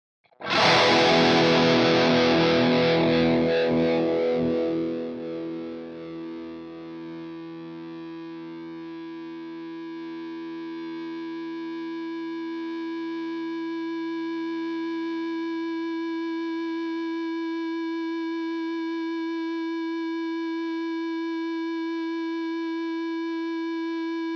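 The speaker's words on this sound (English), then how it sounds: "the guitar actually can feedback under its own power" An Enya Nova Inspire acoustic guitar at maximum volume howls into steady feedback: after a bright opening strum, a sustained, loud, ringing tone of layered pitches holds unbroken and slowly swells for a long stretch.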